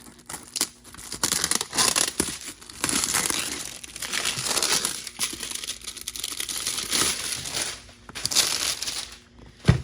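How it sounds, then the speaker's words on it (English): Plastic packaging wrap being cut away from a HYCHIKA mini circular saw: close, crisp crinkling and crackling of the plastic with scissor-like snips, steady for about ten seconds with no talking. "So let's go ahead and cut off this, this wrapping here."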